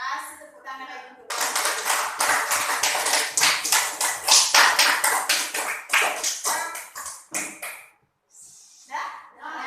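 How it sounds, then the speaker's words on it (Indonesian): A school class claps hands together in a classroom, a burst of sharp, close, rhythmic claps lasting several seconds between spoken words, then a brief pause before talk resumes. "Berarti kita kasih tepuk tangan lagi untuk"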